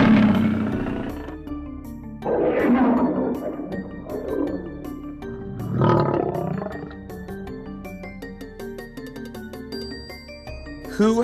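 A lion roars in several deep, swelling bursts within an animal guessing game, with bright music chimes and tones playing throughout.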